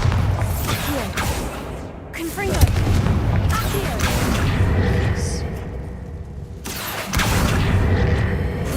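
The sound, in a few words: Bombarda and Confringo spell explosions in Hogwarts Legacy video game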